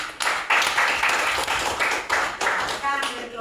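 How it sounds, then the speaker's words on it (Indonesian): A group claps hands in a Christian religious education class, a dense, sustained round of applause with bursts renewing every half second or so, fairly close and loud throughout. "Tepuk tangan."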